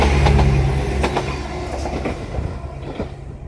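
A train rumbles past nearby alongside a canal with rhythmic clattering of wheels on rails, loud at first and gradually easing as it moves on.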